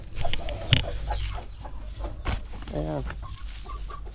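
Chickens clucking in a poultry house where droppings are being covered, short clucks and a brief squawk under a nearby voice, with scattered knocks and shuffling noises.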